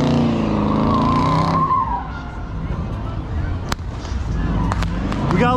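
Car tires squeal and skid at a night car meet in NYC, loud and close, a long screech with engine roar and crowd noise, people shouting nearby, then sharp pops like fireworks toward the end.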